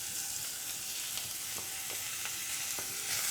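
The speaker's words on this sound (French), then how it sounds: "À présent, nous allons ajouter les lardons dans les oignons" Bacon lardons fry with sliced onions in a small sauté pan, giving a constant close sizzle. Occasional sharp clicks and scrapes from stirring punctuate the frying.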